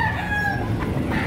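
A rooster crows at a chicken auction in Padre Garcia, Batangas, one clear, fairly close crow rising and falling over a brief moment amid background farm noise.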